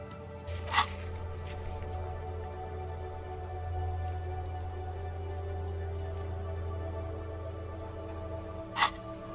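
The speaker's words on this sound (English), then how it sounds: "Rain falls down on the world." Steady rain falls in the game Disco Elysium, a soft continuous patter with a low rumble beneath, broken by two brief brighter splashes near the start and end.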